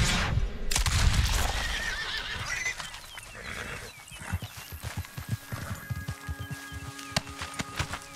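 A loud horse neigh bursts out at the start in the game Red Dead Redemption 2 Online, followed by a run of hoof clip-clops on hard ground with occasional clanks.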